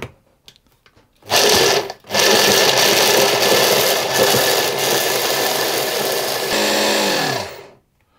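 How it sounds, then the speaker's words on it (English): A food processor grinds pistachios for orange pistachio friands, starting with a loud whir, pausing for a moment, then running steadily and rattling for several seconds before winding down and stopping. "I'm going to process these until hopefully I get quite a, well, a reasonably fine grind."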